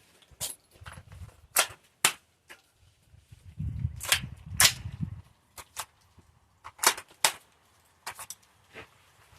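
A live round being loaded into the chamber of a gun with a barrel problem: a run of sharp metallic clacks and snaps, close and fairly loud, with low handling rustle between them and no talking.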